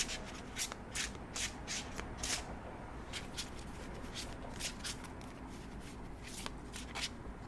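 Quiet, rhythmic riffling and shuffling of an angel card deck, repeated soft flicks and rubs of cards close by, ending as a card is pulled.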